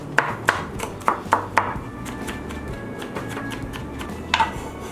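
A knife smashing and chopping garlic on a cutting board for beef chow fun, with a run of sharp, close thwacks followed by scattered lighter taps.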